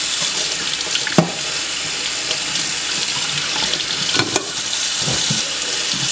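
Tap water pours into a sink to rinse cooked seafood, a steady broadband rush with a few sharp clicks and knocks of handling over about six seconds.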